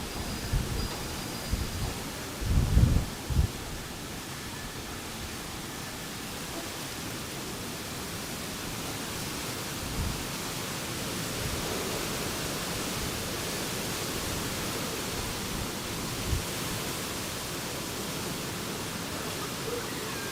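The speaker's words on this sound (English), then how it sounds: "It's very windy up here." Strong wind gusts in Miami, Florida ahead of Hurricane Milton, a steady loud roaring rush of air buffeting close by throughout, with a few brief bumps early on.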